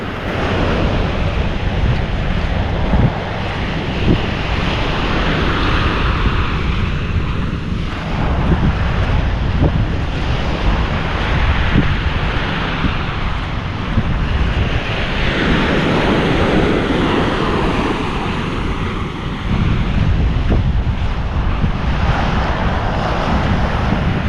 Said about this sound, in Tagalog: Nababasag na yung malalaking alon, no?